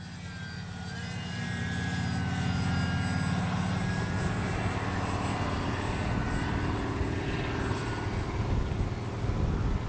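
E-flite P-51D RC model airplane flying in to land, its electric motor giving a steady whine and hum that swells slightly and holds, fairly close and continuous with no talking.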